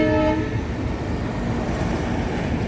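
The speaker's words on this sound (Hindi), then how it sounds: "आवाज़ आ रही होगी रेलगाड़ी की" A train passing near a roadside HP petrol station about 60 km past Hyderabad, opening with a brief horn blast and settling into a loud, steady rolling roar of wagons.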